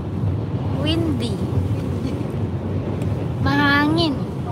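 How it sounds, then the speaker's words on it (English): Strong wind buffets the microphone outdoors at a Rocky Mountain viewpoint, a steady, close rumbling roar throughout, with a voice briefly heard speaking over it. "Napakahangin po mga kababayan."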